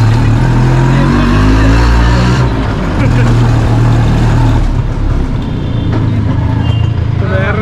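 Auto rickshaw approaching on a street in Ajmer, Rajasthan: a steady, loud motor rumble with engine drone and passing traffic, close by, while someone talks over it.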